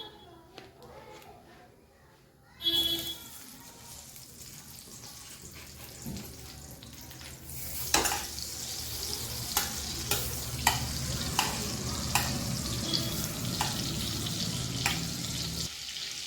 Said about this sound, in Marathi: मी गॅसमध्ये आता तेल टाकून घेतलेलं आहे. त्यामध्ये मी आता बटर टाकणार आहे